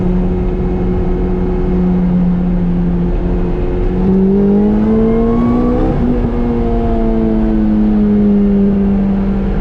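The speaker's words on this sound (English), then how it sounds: "Hear that little pop in the exhaust." A Lotus S2 Exige S manual sports car engine revs steadily and rises in pitch, with a continuous mechanical whir and a slight exhaust pop mid-rev.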